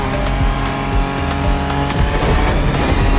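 A Ford Bronco drives across Hawaii in the video game The Crew Motorfest, its engine giving a loud, steady drone with rhythmic revving pulses and tire noise that build near the end.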